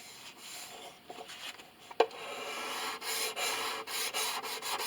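A hand scraper rubs across a violin's wood during repair, giving soft, close scraping strokes that grow steadier and more continuous in the second half, with one sharper scrape partway through.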